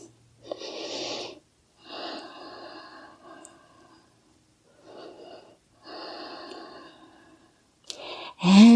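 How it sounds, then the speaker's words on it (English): Slow, deep breaths during a full-body yoga stretch, each long inhale and exhale heard close and soft, separated by quiet pauses, with no music behind. "And just breathe."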